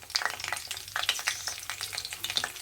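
Three medium chopped onions dropped into hot oil for a chickpea ghugni: a dense, crackling sizzle with bursts of popping and light stirring, close and constant, with no speech.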